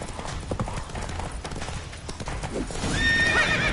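Hooves clip-clop steadily as Roach the horse gallops in The Witcher 3, the rhythm continuing throughout before a sharp whinny rises near the end, fairly loud and close.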